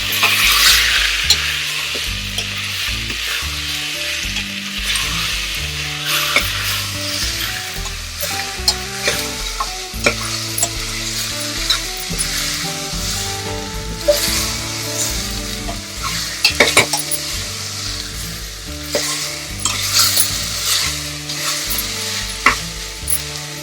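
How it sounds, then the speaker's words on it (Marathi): Village-style mutton is stirred and sautéed over a high flame, loud steady sizzling broken by repeated scraping and clinking of the spoon against the pot, close and uninterrupted by speech. "आणि हे मोठा गॅस करूनच परतायचं."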